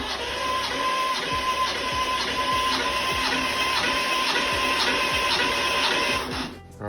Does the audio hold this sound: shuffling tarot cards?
no